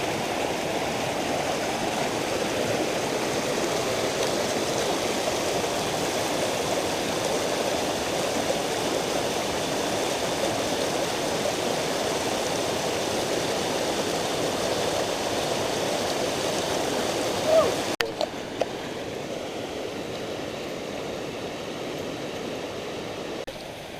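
Water rushes steadily in a stream beside a hiking trail in Sages Ravine on the Connecticut–Massachusetts border, a constant broadband flow close by, briefly bumped by a couple of handling knocks near the end.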